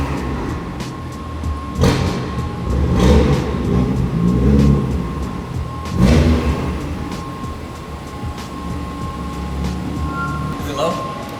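A low-slung sports car driving and revving its engine, with deep throaty bursts swelling every few seconds over a constant drone, heard from inside alongside people talking.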